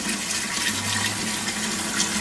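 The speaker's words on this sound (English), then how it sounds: "We'll add a little warm water to the sink" Warm water runs from a tap into a plugged household sink, a loud, steady rushing gush that fills the whole moment without pause.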